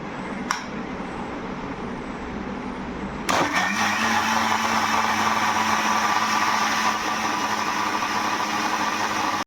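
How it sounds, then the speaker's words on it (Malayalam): An electric mixer grinder blending watermelon milkshake switches on abruptly after a short quiet stretch, then runs with a steady loud whirring roar until it cuts off. "ഇത് ഞാൻ മിക്സിയിലിട്ട് അടിക്കാൻ വേണ്ടി മിക്സി ഓണാക്കാൻ പോവുകയാണ്."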